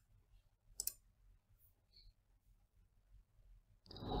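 Computer mouse clicks, a quick close double click followed by a couple of faint ticks over low hum, then a louder burst of noise at the end.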